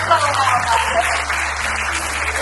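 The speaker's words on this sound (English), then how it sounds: "And so the second runner-up, you can start clapping now." Contest audience applauding as the second runner-up is announced, steady clapping under a low hum with a voice speaking over it.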